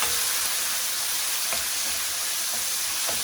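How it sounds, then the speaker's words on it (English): Chopped tomatoes sizzle loudly in a hot frying pan, a dense, steady crackling hiss with occasional sharper pops, close up and without any talking. "And I'm sure you can hear the sizzle."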